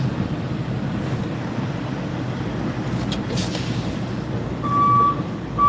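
A truck backing up with a trailer, its reversing alarm beeping a few times near the end over a steady engine drone and outdoor rumble; no speech.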